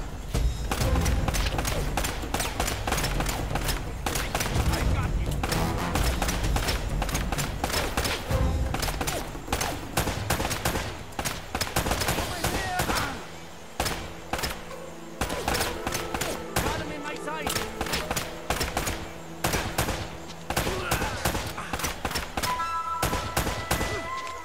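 Gunfire in the Uncharted video game, dense bursts of shots and impacts crackling almost continuously for the whole stretch, loud and close, with game effects layered underneath.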